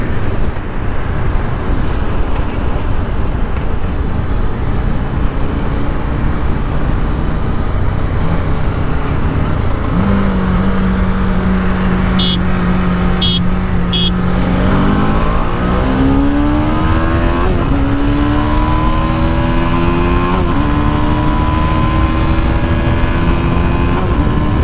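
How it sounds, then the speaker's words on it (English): A TVS Apache RR310 and a Royal Enfield Interceptor 650 accelerate hard side by side in a drag race, with loud continuous engine roar and rising pitch through gear changes, overlaid by heavy wind noise. "test the acceleration of the RR310 with the Interceptor 650"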